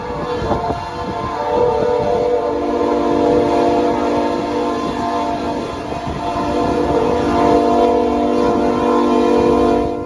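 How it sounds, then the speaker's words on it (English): A train powers through deep snow, rumbling steadily along the rails in a loud, continuous roar with a droning tonal hum running through it and no talking. "Deep snow's no problem for this train. It powers straight through."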